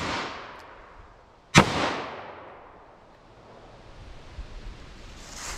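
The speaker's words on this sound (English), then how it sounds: "Couple of shots there." A single sharp, loud report from a short-barrel 9mm firing Freedom Munitions X-DEF ammunition cracks out alone and rings into a long fading tail over steady outdoor wind-like hiss.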